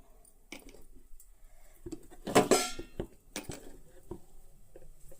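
A brief clatter and rustle as roasted chutney ingredients are tipped into a mixer jar, with a few light knocks and clinks around it.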